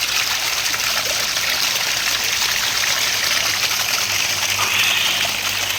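A spring-fed stream flows steadily with a constant, broad rushing and splashing hiss. It sounds close and fairly loud and carries no speech.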